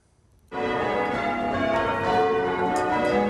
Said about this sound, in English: church bells chimed in unison to symbolise the end of the First World War